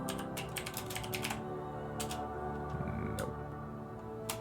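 Fast computer-keyboard typing: a quick cluster of crisp key clicks, a pause, then a few more scattered taps, close and clear over a faint steady background hum.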